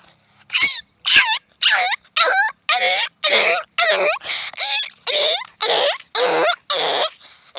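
A man imitates a dog yelping after being struck by a stone, giving about a dozen sharp, loud, evenly spaced yelps close up, each a short strained cry with pauses between them.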